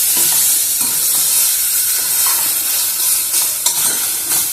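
Ridge gourd chutney ingredients fry in a pan while being stirred, a loud, close, continuous sizzle with repeated scraping strokes of a spoon and no talking.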